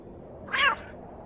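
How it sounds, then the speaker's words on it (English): A single cat meow from the Victorian-era adventure game Hob's Barrow, short and clear, rising and falling over about a quarter second against a quiet background. "Oh, there's the cat."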